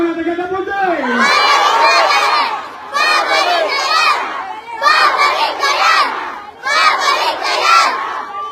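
A crowd of supporters at a Philippine campaign rally shouts and chants in repeated loud bursts, each surge lasting a couple of seconds with short dips between, close and dense, with children's voices mixed in.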